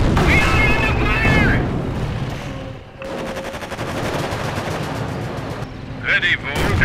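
Battle in the video game Company of Heroes, with dense, loud bursts of machine-gun and rifle fire and booming blasts running nearly throughout, mixed with voices and radio-style chatter.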